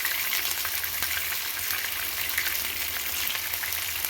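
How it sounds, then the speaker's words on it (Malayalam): Steady, crackling sizzle of marinated chicken pieces frying in hot oil, continuous and even, with no voices. "ഇപ്പോൾ ഈ വറുക്കുന്നത്."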